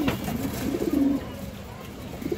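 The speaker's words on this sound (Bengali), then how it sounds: "এটা খয়রি ছাপছিলা নর কবুতর মাশাআল্লাহ" A male khoyri chapchila pigeon, brown with a spotted throat, gives a faint low coo amid steady background noise.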